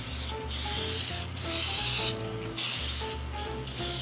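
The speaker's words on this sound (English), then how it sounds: "You're going to spray so the paper will stay in the bottom." Cooking spray hissing onto parchment paper lining a cheesecake pan, several close bursts of spraying with short gaps between them, no talking.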